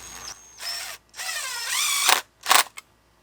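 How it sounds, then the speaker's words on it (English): A power drill drives screws while an outside faucet is mounted, with short whirring bursts that rise in pitch, then stop-start pulses, close and fairly loud. "I'm going to go ahead and attach screws here."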